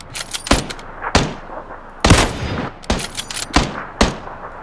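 Bursts of gunfire aimed at a buggy in PUBG crack out in sharp, loud repeated volleys, a handful of clustered shots separated by brief pauses.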